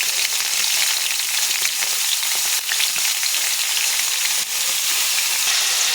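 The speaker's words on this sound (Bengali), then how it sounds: "পেঁয়াজ আলুটা ভালো করে ভেজে নেব।" Onions and potatoes fry in a pan with a loud, dense, continuous sizzle close by, broken by a few brief stirring scrapes and no voices.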